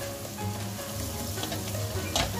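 Pan-fried prawns tossed with minced ginger and onion leaves over high heat, a steady close sizzle with a sharp scrape of a utensil near the end.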